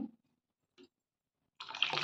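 After a couple of faint clicks and near silence, water suddenly rushes into a pot of split moong dal, a close, splashy pour at the end.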